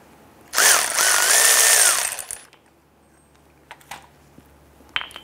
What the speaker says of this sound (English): I'm gonna go ahead and use our 15/16 deep socket to remove the pressure switch here.